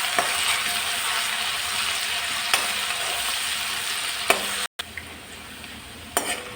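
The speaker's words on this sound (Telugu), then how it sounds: "ఇలా చూసారా వేగిపోయినాయి పోపులు." Tempering spices fry in hot oil with a steady crackling sizzle, broken by a few sharp clinks of a spoon stirring against the pan and one brief dropout near the end, with no speech.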